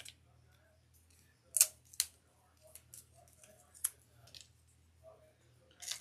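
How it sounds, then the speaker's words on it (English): Scissors snip through craft material for a sand pail, several sharp separate clicks and cuts spaced irregularly in a quiet room, faint and close, with no talking. "I'm gonna have to cut that down a little bit more."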